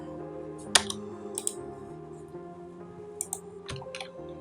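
Java code is typed on a computer keyboard in sparse, separate clicks and short bursts of keystrokes, close and fairly quiet, over a low steady background hum.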